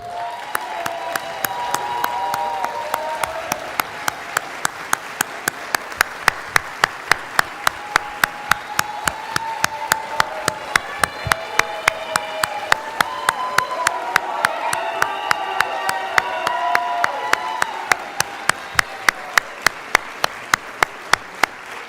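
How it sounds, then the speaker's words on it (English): An audience at a Bloomfield College baccalaureate ceremony applauds in a steady, sustained wave of clapping that fills the hall for the whole stretch without pause. "please now take a moment to applaud and thank your guests here today"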